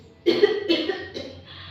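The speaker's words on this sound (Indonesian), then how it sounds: "Sambil sesekali ibunya batuk." A woman coughs three times in quick succession, fairly close and clear, with no talking.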